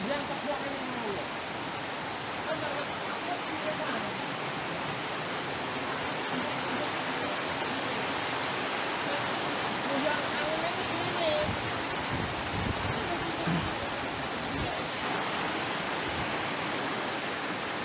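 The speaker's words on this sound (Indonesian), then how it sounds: "Hujan, dingin. Wih, keras ya." Heavy rain with strong wind pounding a village home in Bongo III, Wonosari, a dense, unbroken roaring wash of rain close by, with faint speech from a man buried beneath it.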